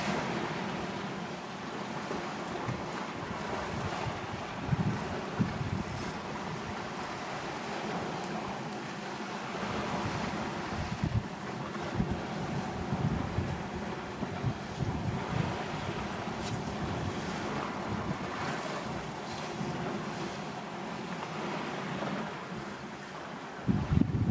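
Big sea waves surge and break against the rocks below Tater Du Lighthouse in Cornwall. There is a steady, broad roar with swelling crashes and gusty wind noise across the microphone, and no voices.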